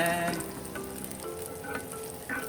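Egg for a Thai lava omelette sizzles and crackles steadily in a hot pan, with faint scraping from a utensil stirring through it, close and continuous throughout.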